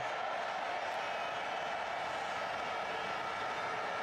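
Football stadium crowd at a Barcelona versus Bayern match in 2006, a broad, steady roar of many voices washing evenly through the whole stretch without clear peaks, fairly distant and constant.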